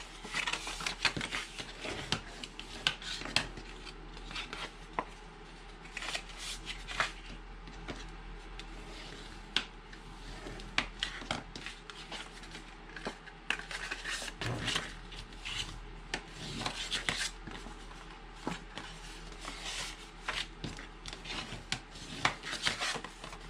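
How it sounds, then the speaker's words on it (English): Paper being folded and burnished for a handmade box of kisses, close soft rubbing and scraping strokes with crisp crinkles, repeated at an uneven pace on a tabletop. "So I'm going to go ahead and just fold and burnish."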